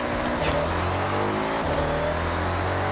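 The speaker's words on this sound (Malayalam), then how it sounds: "BMW M5 തുടങ്ങാം ഇന്നത്തെ റേസ്" A BMW M5 engine in the Forza racing game revs hard and steadily, its tone rising and shifting through gear changes across the clip, loud and continuous with no voices.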